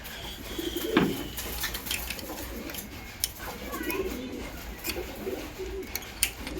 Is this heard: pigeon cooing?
yes